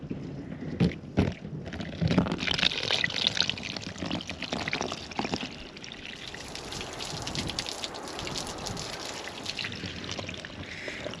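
Water is poured and splashed over a camper van's sides and window seals to check for leaks, with a steady rushing, trickling wash and some heavier splashy bursts early on, no voices.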